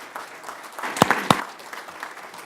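Audience applause closing a panel session at an agricultural fund's 20th anniversary celebration: a brief burst of clapping with a couple of sharper claps near the middle, moderately loud, no voices.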